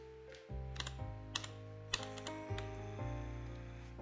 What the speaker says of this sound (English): Let's see what this keyboard sounds like first.